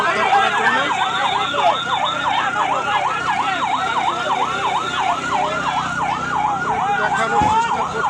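An ambulance siren wails at a bus accident rescue on the Magura highway, a rapid, regular rising-and-falling cycle that repeats steadily throughout, fairly close, over a background of road noise.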